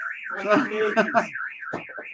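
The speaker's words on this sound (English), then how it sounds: "We're having an alarm going on." An alarm goes off with a loud, repeating warbling tone that rises and falls, while voices talk over its first half before the tone continues alone.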